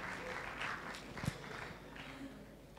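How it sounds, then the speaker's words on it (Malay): Audience members at an Islamic talk in Malaysia give fairly faint, diffuse applause for a woman who has come forward to ask a question, with a murmur and a single thud in the background. "Beri tepukan pada perwakilan wanita kita untuk persoalan."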